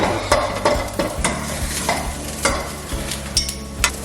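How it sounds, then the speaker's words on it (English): Spring onion and garlic stir-fry in a hot pan for a spicy Chinese chicken dish, a close steady sizzle punctuated by repeated sharp scrapes and clatters of the utensil moving the pieces around, with no one talking. "the spring onion and garlic together, and we're just going to move that around just to let that catch it"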